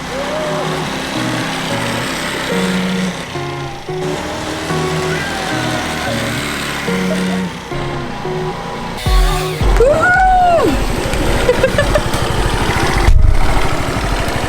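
A motorcycle engine runs in a steady rough idle, then revs up in a loud rising and falling sweep near the end, close and prominent throughout.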